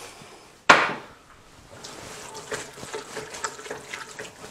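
A sharp knock on a pot, then a soft run of water being added to chili con carne, quiet and close, with light clinks and stirring after.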